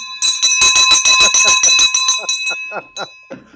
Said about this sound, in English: how do you like this school bell, like school teacher bell?